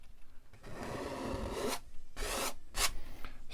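A palette knife scraping paint off a canvas during a mountain landscape painting, several rasping strokes up close, some long and some short and sharp, with no talk.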